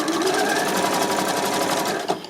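A home sewing machine runs steadily and loudly, sewing a twin-needle mock coverstitch on knit fabric with stretchy thread in the bobbin, a continuous close whirring hum throughout.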